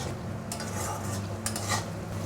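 A utensil stirs and scrapes spice masala frying in a pan for tel koi, a Bengali fish curry, with steady soft scraping strokes over a low sizzle and occasional brighter metallic scrapes.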